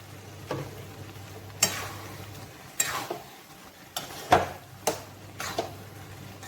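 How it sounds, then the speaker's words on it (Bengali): A spoon scraping and stirring a pan of bottle gourd and moong dal curry cooked with sugar, garam masala and ghee, heard as sharp intermittent scrapes over a faint steady sizzle, close by with no talking. "ভালো করে মিশিয়ে নেড়ে শুকনো করব।"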